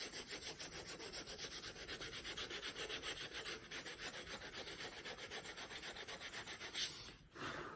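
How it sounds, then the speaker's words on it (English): Sandpaper rubs along a leather edge on a titanium stove case, a steady rhythmic back-and-forth rasping at close range that runs without pause and is fairly quiet. "With a bit of sandpaper, even it out first, and this will help remove"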